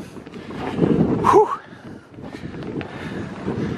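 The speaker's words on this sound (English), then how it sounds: "I'm catching a nice blast of wind" Strong wind gusting during a Christmas Eve blizzard whiteout in Buffalo in 2022, a loud rushing blast buffeting the microphone that swells and fades, with a person exhaling audibly over it.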